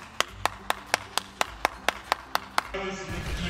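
About ten crisp hand claps in an even, quick rhythm, close and loud, followed by a brief burst of other noise.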